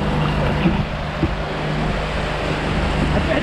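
A large motorboat pounds through waves on open water, a constant loud rumble of engine and rushing spray with occasional thuds as the hull dips under a wave.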